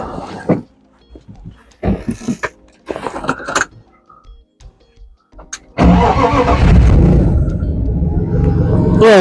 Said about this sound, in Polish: jak słyszycie i widzicie, pracuje, silnik pracuje.